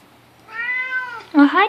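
A cat meows twice up close, first with a drawn-out rising-and-falling cry, then a shorter, louder meow.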